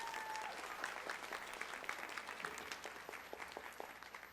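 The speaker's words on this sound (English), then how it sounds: "Let's give Dr. Barnes a round of applause" An audience claps steadily through a college honors convocation as an award recipient is recognized, a dense, sustained applause heard at moderate distance with no talking over it.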